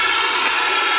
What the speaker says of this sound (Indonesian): Ini tinggal di mixer aja sampai dia agak mengental.